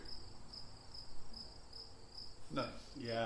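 A cricket trills in a steady repeating pulse, close and clear, before a voice begins speaking near the end over the continuing chirps.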